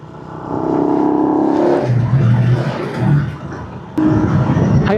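Motorcycle engine on a highway in Malaysia revving hard at high RPM, a loud sustained drone that rises and dips with throttle changes, briefly easing before surging again near the end.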